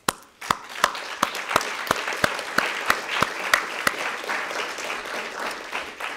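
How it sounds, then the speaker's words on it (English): A conference audience applauds at the closing remarks. One loud, close clapper keeps a steady, even beat over a dense wash of clapping from the room, and the clapping thins out toward the end. "I think they deserve an applause."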